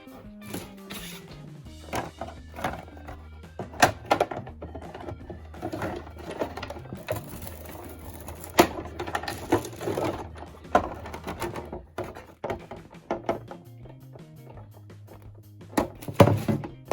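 A Big Shot die-cutting machine pressing felt through a die gives dense, close mechanical clatter with repeated thunks and clicks under a low hum, loud and continuous with no talk.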